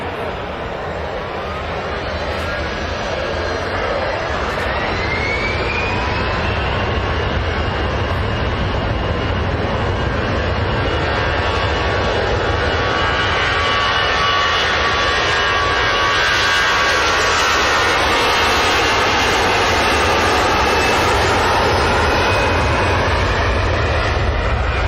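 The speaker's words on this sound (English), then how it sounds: "That's your biz jet." A business jet at Manchester Airport roars loudly and steadily with a broad engine rush, its whining tones sweeping slowly as the aircraft moves past, a sustained close pass with no talking heard.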